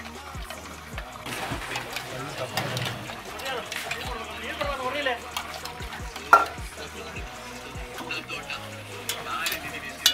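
Freshly ground masala paste being stirred in a pot with a little water for a country chicken kurma cooked over a village fire outdoors, soft repeated scraping and sizzling strokes under talking voices throughout.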